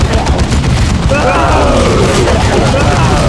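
A Dawn of War 2 battle against Tyranids, with dense, continuous machine gun fire and heavy booms at close range. Voices sound beneath the loud barrage.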